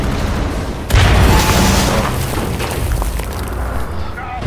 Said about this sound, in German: Ich muss hier bestimmt eine Granate hochschmeißen, ne?